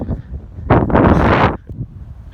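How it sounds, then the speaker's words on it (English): Strong outdoor wind buffets the microphone in a loud rough roar that swells for most of a second near a small inlet on the water, then drops back to quieter gusty rumbling. "I'm not grateful for the fucking wind"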